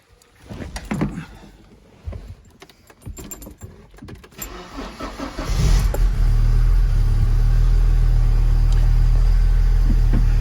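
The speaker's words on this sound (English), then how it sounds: "let me go ahead and start the car up for you." Keys jangle and clatter close by, then a Porsche 944 engine cranks, catches and settles into a loud, steady low rumbling idle that holds for several seconds, with no talk.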